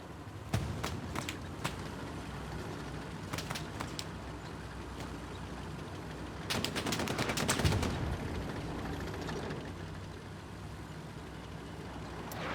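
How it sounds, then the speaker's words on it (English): Medium tanks firing in the Hell Let Loose video game, a string of sharp, booming shots with one dense burst of rapid fire near the middle, over a steady bed of battlefield noise. "Medium tanks firing away."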